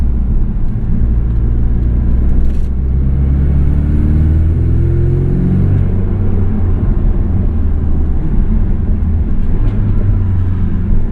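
A tuned 2017 Porsche 718 Boxster S with PDK gearbox, MTM-modified, pulls hard under acceleration, its deep engine rumble rising through a gear change and droning on steadily and close, with no talking over it.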